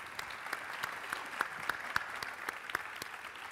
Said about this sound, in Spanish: los despedimos con un aplauso